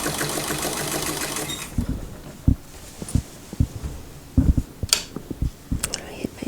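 A sewing machine stitches a tucked day dress from Simplicity pattern 9134, humming in a steady run at first, then stopping and restarting in short bursts of stitches with pauses between.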